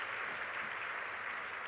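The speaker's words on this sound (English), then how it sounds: "you can clap, it's okay." Faint, steady applause from a spring commencement ceremony crowd, a soft continuous patter of clapping heard at a distance for a brief moment.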